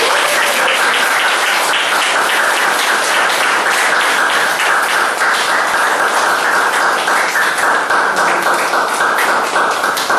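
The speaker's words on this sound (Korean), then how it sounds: "다시 한 번 박수 보내주시죠" A large audience at the close of a talk event in Iksan gives loud, sustained applause, dense clapping that holds steady from start to finish with no voices over it.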